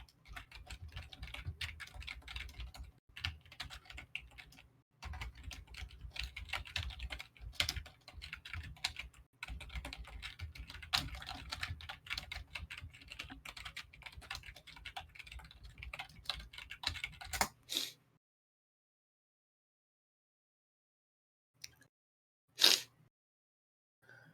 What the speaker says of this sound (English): Wolfgang and Nadon have loud ass keyboard.